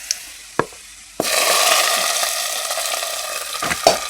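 A few light clinks, then a tempering of fried onion and curry leaves is poured into a pot of greens and potato curry, bursting into a loud close sizzle that slowly settles, with a couple of utensil taps near the end.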